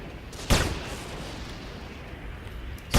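Aimed shot attack in the video game Anarchy Online, a single loud booming shot with a fading tail over ambient background noise, followed by another sharp report at the very end.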